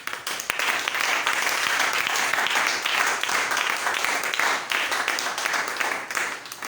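A church congregation applauds to acclaim the Lord during a Bible seminary gathering, with steady, dense clapping that fills the room for the whole stretch and faint voices mixed in.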